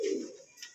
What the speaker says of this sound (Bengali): গ্রাম বাংলার ঐতিহ্যবাহী একজোড়া কবুতর, ঘিয়াচল্লি কবুতর না ভাই?